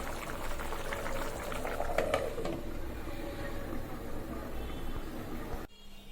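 Taro and hilsa fish head curry with green chillies bubbling in a cooking pot, a steady close simmering hiss with brief louder bubbling bursts, ending abruptly near the end.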